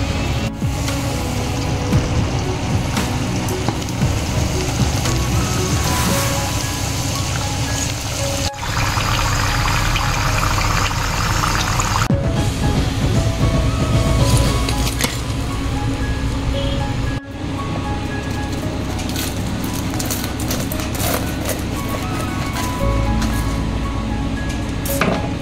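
Spring rolls deep frying in oil give a loud, continuous bubbling hiss that runs unbroken for the whole stretch, with brief shifts in intensity and no talking.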